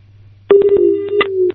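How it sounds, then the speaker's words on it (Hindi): Electronic tones on a phone line as a call drops during a live phone-in program, a steady held tone broken by several short bursts, loud and alone over a low hum. "फोन कट गया, लगता है दोबारा टेक्निकल प्रॉब्लम।"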